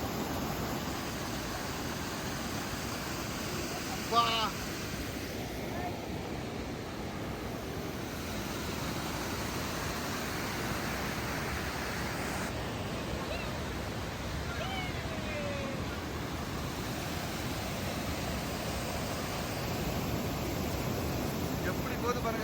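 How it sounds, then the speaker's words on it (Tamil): Hidden Falls at Jenny Lake in Grand Teton sends up a continuous, even roar of rushing water, with a short spoken word briefly over it. "சரியான ஃபால்ஸுங்க. தண்ணியை பாருங்க எவ்வளோ பயங்கரமா இருக்குன்னு."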